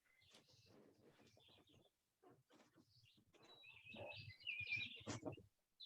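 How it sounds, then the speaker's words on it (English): Birds chirp and tweet in short bursts, growing louder toward the end, with faint low sounds underneath. "I am loving hearing these birds."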